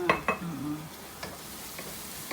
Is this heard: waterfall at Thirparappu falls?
no